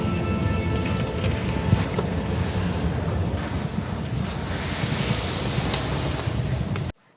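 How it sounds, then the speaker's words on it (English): Water rushes steadily from a frozen waterfall in full winter in Upper Michigan, a dense continuous roar mixed with wind buffeting the microphone, with no talking, ending abruptly. "It's really cool as I can hear the water above me."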